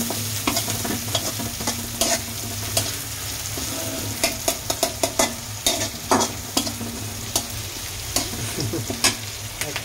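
Onions and green chillies fry lightly in a pan while a spoon stirs them, giving a steady close sizzle broken by frequent sharp scrapes and clinks at an uneven rhythm.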